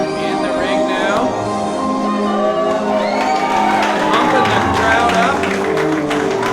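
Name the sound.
wrestling crowd cheering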